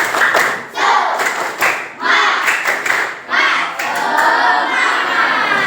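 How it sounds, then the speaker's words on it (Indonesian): An audience claps in loud, rhythmic bursts for a spirit clap at a teacher-training class, with the clapping broken by short pauses and crowd voices mixed in. "semuanya tepuk semangat"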